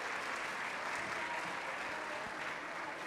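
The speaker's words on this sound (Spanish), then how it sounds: "Un aplauso, por favor." Audience applause after a medical lecture on psychiatric patients in intensive care, steady and continuous for a few seconds at moderate distance, filling the room evenly without talk.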